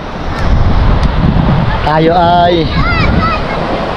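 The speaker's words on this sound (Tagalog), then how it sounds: "Dito tayo sa tabing dagat." Wind buffets the microphone at a seashore while ocean surf washes in steadily behind it. Someone talks briefly over the blustery noise.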